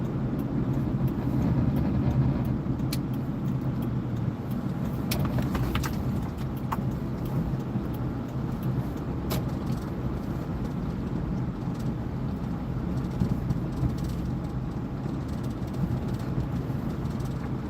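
Road traffic flows past a fishing spot, a continuous near-and-far rumble of cars with a few sharp ticks and clicks on top and no voices.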